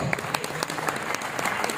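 Hall audience clapping at a cultural troupe's golden jubilee celebration, welcoming a member of parliament onto the stage; steady, close applause with distinct individual claps standing out in a brisk, uneven rhythm.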